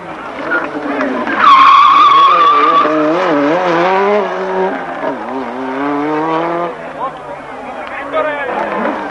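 A Renault 5 Turbo rally car drifts sideways on a winding road, its tires squealing in a long sustained skid with the engine revving underneath, loud and close, while a commentator talks over it.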